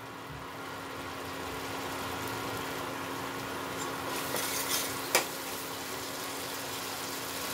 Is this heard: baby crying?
no